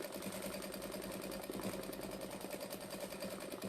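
A sewing machine doing free-motion quilting around teddy shapes, running at a fast, even stitching rhythm with a continuous mechanical whir and rapid needle ticks, close and alone.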